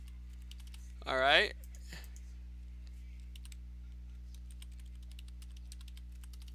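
Soft, quick keystrokes on a computer keyboard, tapping away faintly and steadily over a low electrical hum, while someone briefly speaks near the start.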